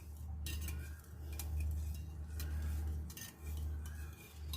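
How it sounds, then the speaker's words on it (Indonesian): A balloon whisk stirs coconut milk batter in a bowl, with rapid rhythmic clinking and scraping of wire against the bowl in close, continuous bursts. "Kemudian kita aduk rata menggunakan balon whisk ya"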